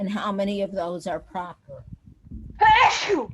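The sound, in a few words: sneeze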